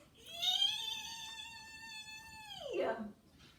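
A voice imitates screeching brakes: one long, high, whining squeal that holds steady, then drops sharply in pitch and cuts off.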